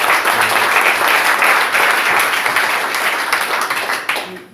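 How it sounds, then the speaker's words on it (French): A congregation applauds at a prophetic church service: dense, loud, steady clapping from many hands fills the room and tapers off near the end. "Applaudissons d'abord pour le Seigneur."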